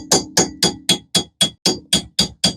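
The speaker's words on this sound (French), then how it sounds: "j'ai pris un chasse-goupille, un marteau." Ten evenly spaced, sharp metallic hammer blows on a pin punch, driving out front brake parts on a Golf 4, each strike ringing briefly before the next, loud and close with no talk.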